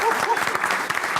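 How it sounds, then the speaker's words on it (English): Dense, continuous applause from a crowd fills the short moment, steady and fairly loud throughout. "They deserve a round of applause for"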